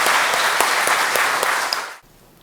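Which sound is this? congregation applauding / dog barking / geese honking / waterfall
congregation applauding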